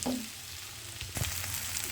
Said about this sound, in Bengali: হাই ফ্লেমে এভাবে একটা ফ্রাই প্যানে এভাবে ভেজে ভেজে নেবেন